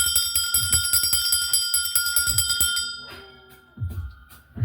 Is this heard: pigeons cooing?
no